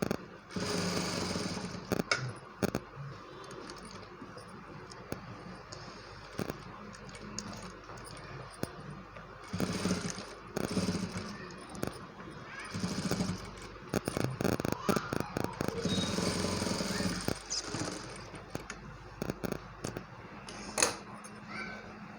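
A home sewing machine double-stitches a cloth for a newborn baby, its needle rattling in rapid mechanical bursts with short pauses between runs while a voice speaks quietly now and then.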